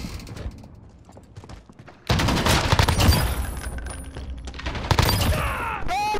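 Rapid gunfire bursts from a shooter video game, loud and dense, starting after a quieter stretch and continuing in sustained volleys with mechanical clatter, no talk over it.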